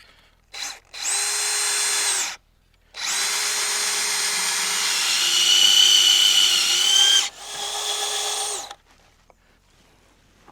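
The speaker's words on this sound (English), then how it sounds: "we'll go ahead and get the drill started on that point." A power drill whirs in long, steady runs, boring into timber for a timber frame, with brief pauses between bursts; close and loud, with no talking.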